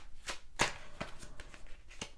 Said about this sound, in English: Oh, I'm gonna shuffle that again.